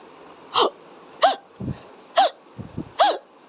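A voice imitates a dog's hiccups with four sharp, evenly spaced hic sounds about a second apart, each followed by softer low gulping noises, close and clear without speech.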